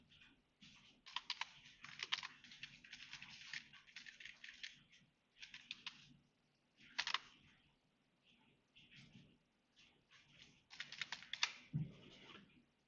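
Fast typing on a computer keyboard, bursts of close, light key clicks broken by short pauses, quiet and with no talk.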